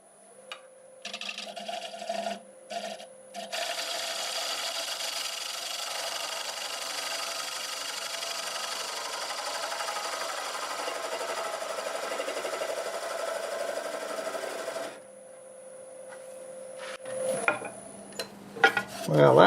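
A bowl gouge cuts the bottom of a walnut bowl spinning on a lathe, a steady close scraping whine lasting most of the stretch, preceded by brief start-stop cuts and ending in faint knocks.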